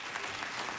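Brief burst of studio audience applause on a late-night talk show, a dense wash of clapping heard alone for under a second.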